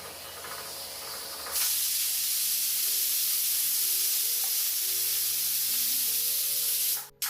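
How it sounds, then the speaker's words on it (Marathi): A pressure cooker whistles at full gas while cooking taro leaves and chana dal, a loud, steady hissing jet after a quieter start, sustained for several seconds before cutting off abruptly. "आता कुकरचं झाकण लावते आणि फुल गॅसवर तीन शिट्ट्या काढून घेते"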